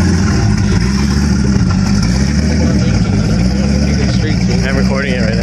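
A supercharged Corvette Z06 engine runs steadily at a car meet, a loud, dense low rumble that holds throughout with a slight rev swell near the end, amid crowd chatter and voices talking.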